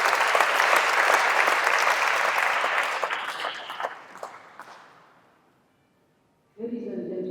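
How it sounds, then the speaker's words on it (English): A funeral audience gives sustained applause that stays loud and dense, then thins and fades into near silence before a voice begins speaking at the end. "Let's clap for him."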